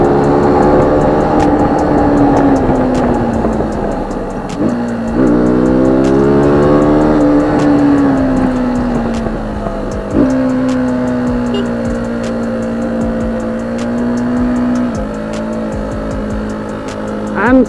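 A KTM Duke 200 motorcycle engine drones steadily through a corner, its pitch sliding down and climbing back again as the rider eases off and gets back on the throttle, loud and close, with a faint regular ticking beneath.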